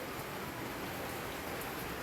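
Heavy rain pours down steadily, a dense, even hiss of drops drumming on surfaces with no pauses or voices.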